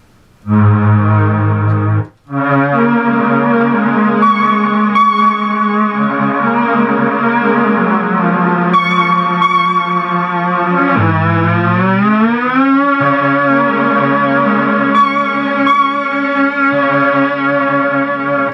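A rich, choir-like Polymoog synthesizer Vox Humana preset plays sustained chords with swelling dynamics and a downward pitch bend partway through, loud and continuous after a brief pause.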